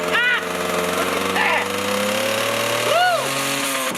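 An old Yamaha GT80 two-stroke dirt bike engine, smoking badly and reluctant to pick up, runs loud and close with a steady buzzing idle and a few short blips of throttle.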